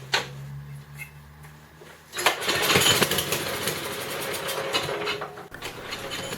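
A Tecumseh small engine runs on extra choke during carburetor tuning, sputtering briefly before catching and settling into a steady, fairly loud idle close by, with no talking.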